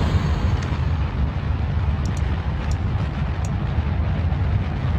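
Terrier rocket engine firing in Kerbal Space Program, a loud, steady, low roaring rumble that holds throughout with a few faint high clicks over it.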